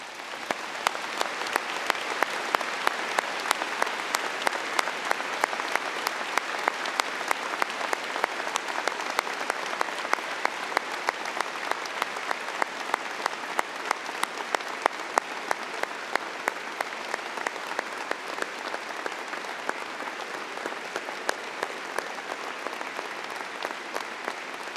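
Graduates at a high school commencement applaud family members crossing the stage, a long, sustained wave of crowd clapping that stays even and moderately distant throughout.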